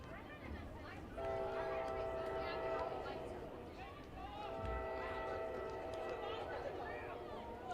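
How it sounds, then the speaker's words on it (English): Train passing in the distance near a girls' varsity soccer game, two long blasts of a train horn over low rumbling, heard faintly beneath a commentator's voice. "There's a train going by in the background"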